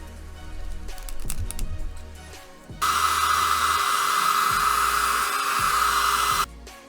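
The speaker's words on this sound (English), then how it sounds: "I'm going to hit this with a hairdryer real quick" A hair dryer blows hot air onto a GI Joe Classified Series Nunchuck action figure, a loud steady broadband whoosh that starts abruptly after some handling noises and runs several seconds before cutting off.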